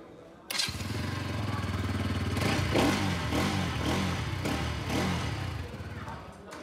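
A Bajaj Pulsar NS200 motorcycle engine starts and idles steadily, a low rumbling putter with a few light revs, close by and alone.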